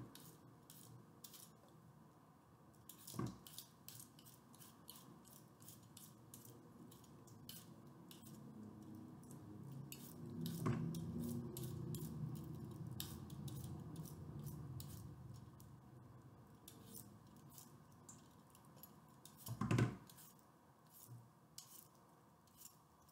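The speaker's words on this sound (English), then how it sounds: "I'm going to slice them with this potato peeler." Cucumbers are sliced with a potato peeler in quick, rhythmic scraping strokes, quiet and close, with a few louder knocks against a dish and no talking.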